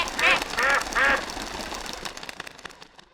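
Three loud, nasal duck quacks come in quick succession as a comedy sound effect, followed by a fading mechanical rattle.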